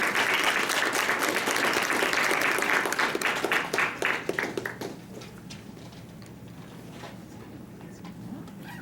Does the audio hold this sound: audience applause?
yes